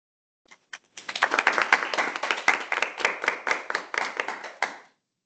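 A small audience at a humorous speech contest claps for a champion, starting with a few scattered claps, then a brief burst of dense close applause that thins out and stops.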